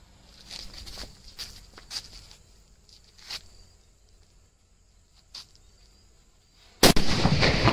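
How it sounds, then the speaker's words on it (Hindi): A sudden loud Diwali firecracker blast near the end, with crackling debris trailing after it, preceded by faint scattered pops and rustling outdoors. "ये देखा भाई आपने क्या शानदार और जोरदार धमाका था"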